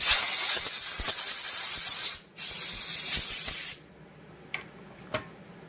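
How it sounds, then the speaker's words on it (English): Two long hissing bursts of spray cleaner onto the carburetor of a Stihl 084 chainsaw, back to back, followed by quiet with a couple of small metallic taps. "We're going to spray it down with some"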